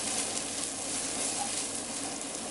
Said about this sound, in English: fry them onto it, until they all get really nice and brown, and kind of caramelize the chickpeas